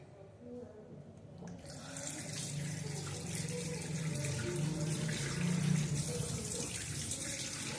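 Tap water runs steadily into a sink during handwashing, a continuous close splashing stream that begins abruptly and builds slightly in loudness.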